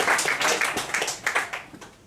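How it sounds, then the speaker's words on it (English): An audience at a live mentalism stage show applauds volunteers walking up on stage, with dense, steady clapping from many hands that fades slightly toward the end. "Give them a round of applause"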